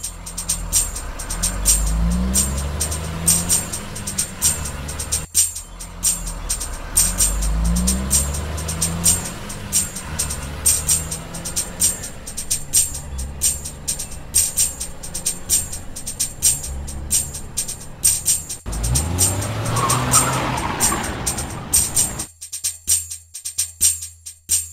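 A car engine revs hard and stays loud and close for most of the stretch as the vehicle drives off, with a rough rising roar near the end before it suddenly drops away.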